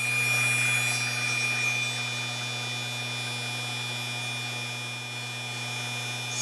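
A 775 DC motor runs steadily at 24 volts, giving a continuous electrical hum with a strong low drone and a high whine at a constant pitch, with no voices.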